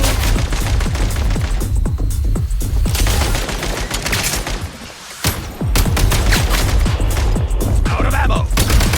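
Rapid bursts of gunfire in the video game Genshin Impact, loud sharp shots crackling densely in near-continuous volleys with a brief lull around the middle, close and dominant throughout.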